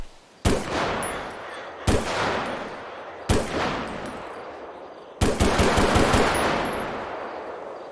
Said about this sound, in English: So that's the sound of the normal pistol.